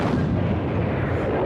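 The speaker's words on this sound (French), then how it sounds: "les GI subissent soudainement un bombardement massif. 2000 canons allemands pulvérisent leur position." A massive German artillery bombardment in the Ardennes in December 1944, cannons firing in a dense, continuous roar of blasts and rumbling booms, loud and unbroken.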